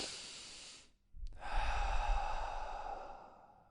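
A single deep breath taken after a brief pause: a long, audible airy exhale-like rush that swells and fades slowly, close and alone with no talking.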